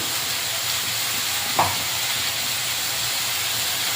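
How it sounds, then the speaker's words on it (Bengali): Cabbage with salt, chili powder and turmeric being stirred and fried in a pan: a continuous soft sizzle and hiss with one brief scrape of the spoon. "আর দেড় হলুদ দিয়ে নাড়াচাড়া করে ভালো করে কষিয়ে নিই বাঁধাকপিটা"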